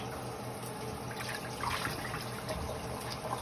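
Water running steadily in a kitchen sink as raw chicken is rinsed after a vinegar soak, a constant faint wash of splashing with slight surges and no voices.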